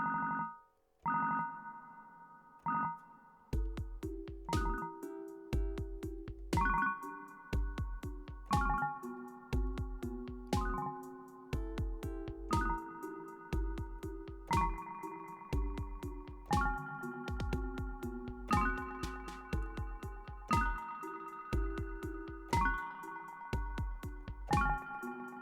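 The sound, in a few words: synth arpeggio with delay and reverb effects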